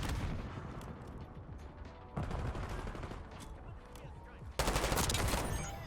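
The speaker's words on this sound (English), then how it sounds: "I want to try and get this nade right." Grenade blast in Black Ops 6 Search and Destroy, heard as heavy broadband bursts with sudden loud onsets near the middle and end, over a constant dense layer of gunfire-like rumble.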